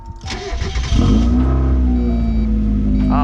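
A 1.6L Mazda Miata engine, just fitted with an oil cooler, cranks briefly and then catches about a second in, settling into a loud, steady idle that runs close-up to the end.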